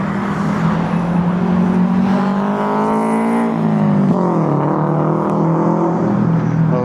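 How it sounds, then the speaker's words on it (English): A Subaru BRZ sports car sweeps past on a city street, its engine note climbing and falling as it passes close by, loud and continuous with a shifting pitch and no talking. "Oh, Subaru BRZ?"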